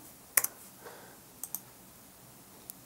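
A computer mouse gives a few crisp clicks in a quiet room, first a quick pair, then another pair and a lone click a second later, near and fairly soft.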